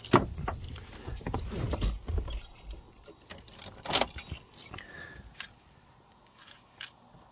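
Keys jangle and rattle close by as someone tries to start a 2006 Holden Berlina with a faulty ECU, with soft clicks and a brief thump, then a quiet stretch with no engine cranking.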